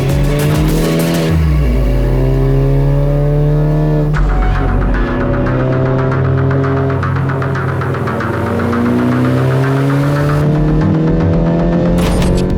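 A Honda Civic Type R with a 2.0-litre turbo engine, about 400 hp, swings through a 180-degree turn and pulls away. Loud steady engine throb, a brief tire squeal, then the revs rise and fall as it drives off, with no voices.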